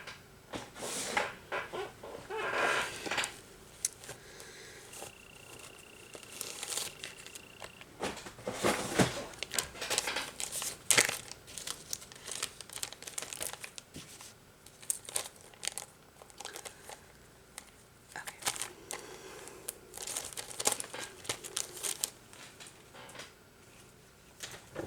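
Close, intermittent crinkling and rustling of a small plastic baggie being handled at a pedicure station, bursts of crackle separated by brief pauses.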